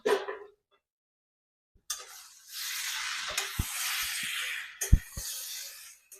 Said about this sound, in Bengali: চলো একবার নেড়ে নিই ভালো করে